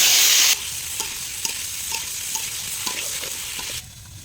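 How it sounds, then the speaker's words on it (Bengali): Tomatoes dropped into hot oil in a pan after other vegetables, a loud hissing burst at the start that settles into a steady sizzle with scraping stirs and clicks, close up, then quietening at the end. "এখন টমেটোগুলো হালকা ভেজে নিব। এখন দিয়ে দিচ্ছি টমেটো"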